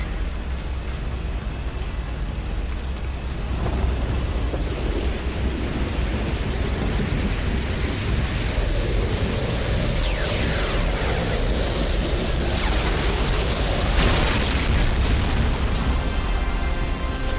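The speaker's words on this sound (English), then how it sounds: "Prepare for ion cannon strike." An ion cannon strike explodes in the PC game Command & Conquer: Renegade, a sustained roaring, rumbling blast with a rising sweep and a sharp crack near the end, loud and continuous throughout.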